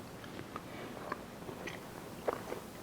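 Close, faint biting and chewing of a slice of Kentucky pecan pie made with a shot of Old Granddad bourbon, a few soft crunchy bites and quiet chewing over a low background hiss, with no talking.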